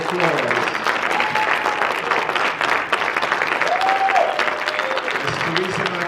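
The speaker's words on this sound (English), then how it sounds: "Let's give our panelists a louder round of applause." An audience applauds panelists after a mental health panel discussion, loud continuous clapping across the whole stretch with a few faint voices underneath.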